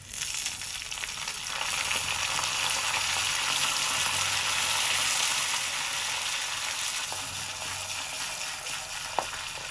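Mustard seeds, split dried red chillies, white cumin and curry leaves sizzle in hot oil for a raita tempering, a steady close crackling hiss that holds throughout with a few sharp pops near the end.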